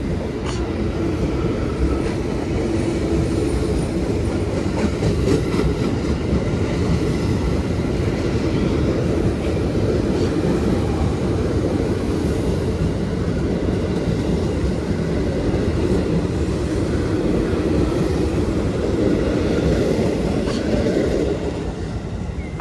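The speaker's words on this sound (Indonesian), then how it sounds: "Ini ada KRL lewat." An electric commuter train (KRL) in Indonesia rolls past close by for over twenty seconds, a loud sustained rumble with rhythmic wheel clatter, fading slightly at the end.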